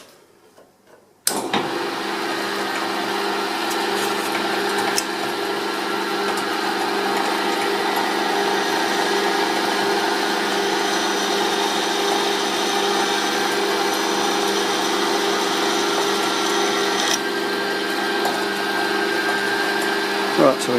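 Drilling the first hole of an indexing plate on a Myford dividing head, a steady, loud mechanical whine with a grinding edge. It starts abruptly after a brief quiet moment and runs unbroken to the end.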